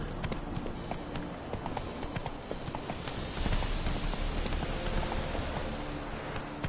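Roach, a horse in The Witcher 3, gallops steadily with rapid, even hoofbeats close by over a constant ambient hiss like rain, with no voices.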